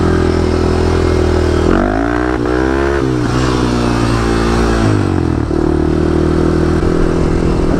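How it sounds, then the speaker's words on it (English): A quad bike revs hard while doing wheelies, its engine loud and close, pitch climbing and falling through several throttle surges with a rough clattering edge and no voices. "Because we have assholes like me that do wheelies in town and rev it loud"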